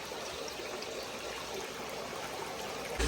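Water pours steadily into the compartment of a cheap homemade aquarium sump, a close, continuous trickling and splashing that runs unbroken with no voices.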